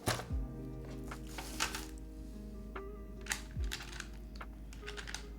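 Typing on a Zonex75 mechanical keyboard fitted with only plate foam, irregular bursts of close, crisp keystrokes with occasional heavier thuds from larger keys.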